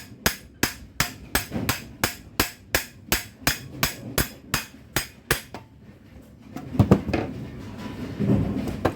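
A hammer strikes the shaft of a GS Short Pit Series 443+ front roller during teardown, about fifteen sharp metallic blows in an even rhythm, close and loud, followed by rattling and shuffling of parts.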